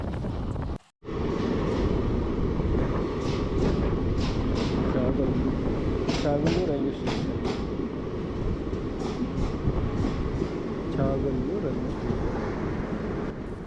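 Simhadri Express train 17239 running between Nidadavolu and Rajahmundry, heard from inside as a loud, continuous rumble with rattling and rhythmic clanks, wind buffeting the microphone, after a brief dropout near the start.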